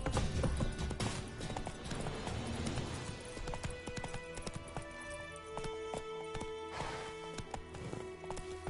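The horse Roach's hooves clip-clop steadily in The Witcher 3 game, with a close, rhythmic trot of hoofbeats, a brief whinny, and background game sounds.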